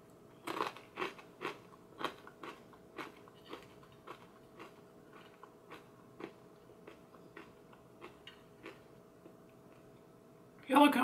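Chile picante Inka corn, large roasted kernels, crunched in steady repeated bites close to the mic, sharp crackly snaps fading slightly over about ten seconds, with a brief louder noise at the end.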